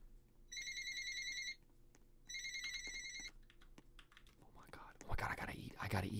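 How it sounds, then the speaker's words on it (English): Electronic phone ringtone in a Roblox game chiming twice in clear bursts, followed by keyboard clicks and a whispery voice talking under the faint game sounds. "Let's answer the phone."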